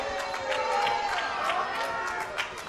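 A wrestling crowd at an independent show in a landmark arena, with steady applause mixed with scattered booing and chatter, a dense continuous roar of many voices rising and falling throughout.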